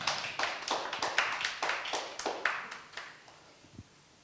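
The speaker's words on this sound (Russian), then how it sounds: "еще раз аплодисментами давайте наших гостей поприветствуем" A live audience applauds to welcome guest authors Anna and Sergey Litvinov at a book presentation: steady, fairly close clapping with distinct hand claps that thin out and fade over the final second.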